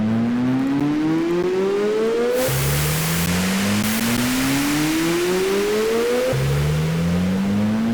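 A Serum synthesizer noise wash with a rising, sliding pitch sweeps upward repeatedly over a pulsing low tone, loud and continuous, like an electronic riser effect.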